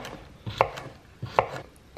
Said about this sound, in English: I'm just gonna slice these cute little baby cucumbers into some